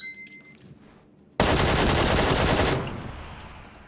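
Sudden loud burst of rapid automatic gunfire in the PUBG battle royale game, a dense continuous volley lasting over a second before tapering into fading echoes, with quieter game ambience before it.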